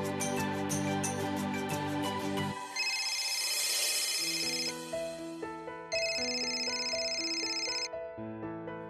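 A melodic electronic phone ringtone plays loudly and continuously, cycling through bright repeating tone patterns in an indoor scene from a Marathi TV serial, with no talking.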